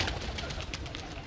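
Pigeons on a rooftop while feeding on grain, giving soft, continuous cooing and bird calls close by over a steady outdoor background, with no talk.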